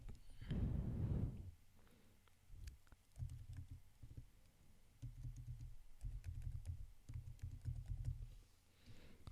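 Keys on a computer keyboard are typed in short, quiet bursts of clicks, close but faint, with a low thump near the start and pauses between runs.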